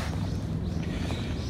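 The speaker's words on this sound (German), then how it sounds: "Es ist zwar warm, aber der Wind" Wind gusting steadily over a microphone outdoors on a warm day on a university campus in Japan, a continuous low rumbling buffet that fills the short stretch without any talk.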